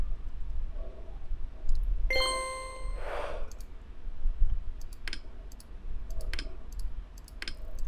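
A few sparse mouse clicks, soft and close, plus a short chime-like tone, spread over a quiet eight seconds with no talking.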